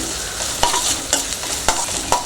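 Onions sautéing in a pan for carrot rice, giving a soft continuous sizzle broken by four sharp spatula strikes at even intervals, close and clear with no voices.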